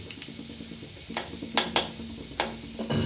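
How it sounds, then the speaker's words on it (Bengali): Garlic frying in a pan while being stirred, a soft steady sizzle broken by several sharp scraping and clinking stirs of a utensil against the pan. "এবার রসুনটা দিয়ে দিলাম, দিয়ে রসুনটাকে হালকা ভেজে নেবেন"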